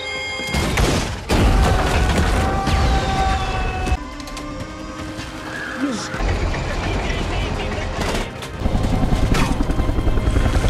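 A helicopter roars loudly and continuously through a film action sequence as a character boards it beside a bridge about to explode, with heavy thuds and booms cutting in and out over the rotor noise.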